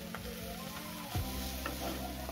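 Egg, cabbage and fried potato go into a sizzling onion-tomato masala for spicy Maggi, with a steady close sizzle, a soft thud as they drop in, and light stirring scrapes.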